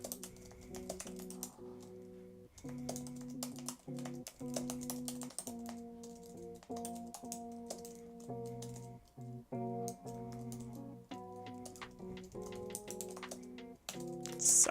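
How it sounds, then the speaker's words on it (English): Rapid, steady clicking from someone typing on a computer keyboard runs throughout, fairly quiet, with soft tonal music playing in the background. "Sorry, I'm just typing this long thing."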